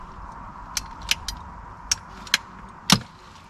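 Ratchet pipe cutters bite through PVC pipe in a handful of sharp, close clicks and snaps spaced irregularly over a low background hum, ending with a louder crack.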